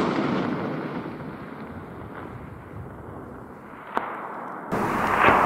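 A single sharp crack from a scoped rifle fired at a long-range target outdoors, brief and moderately loud, rising above a steady hiss of wind and background noise with no talking.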